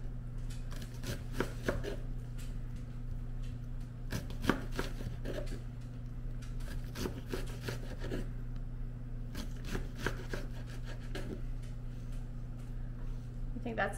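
Knife slicing through red onion on a cutting board, a run of crisp chopping taps in irregular bursts, close and moderately loud, over a steady low hum with people talking nearby.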